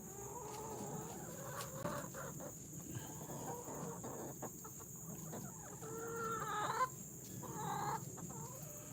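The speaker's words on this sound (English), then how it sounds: "There's the chickens." Chickens clucking and murmuring nearby in a steady jumble, with a constant high electrical whine and some background rustle.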